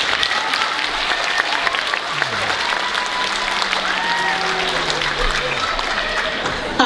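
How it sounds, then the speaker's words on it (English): Applause from a school winter band concert audience fills the room in a dense, steady wash for about seven seconds, with voices and a few whistles or tones mixed in. "Give her a round of applause."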